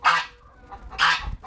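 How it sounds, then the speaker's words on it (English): A goose at a homestead gives two loud, close honks about a second apart, with a faint low rustle between them. "Goose."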